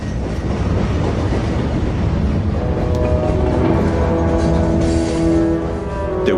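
A train rolls steadily toward a remote forced-labour camp, a loud continuous rumble with rhythmic clatter of wheels on rails and a faint metallic squeal rising near the end.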